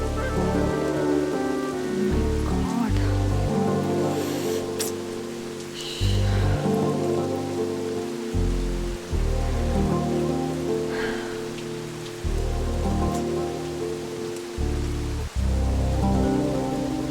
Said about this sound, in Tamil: மழை பயங்கரமாக பெஞ்சிட்டு இருக்கு.